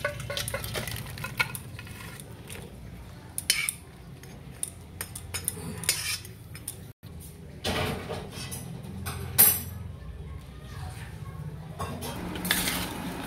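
Bottle gourd and crab curry is tipped from a pan into a dish, with steady close metal scraping and clattering of pot and spoon, including one louder clank partway through.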